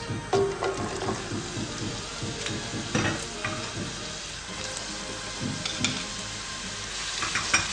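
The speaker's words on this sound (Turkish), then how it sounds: "Soğan şeffaflaşana kadar kavuruyoruz." Oil sizzles and crackles steadily in a pan of onions sautéing while a utensil stirs and scrapes through them, up close.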